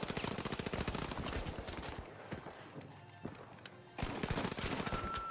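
Rapid bursts of gunfire from a shotgun fight in the video game The Finals, dense and loud at the start, thinning to scattered shots in the middle, then surging again near the end.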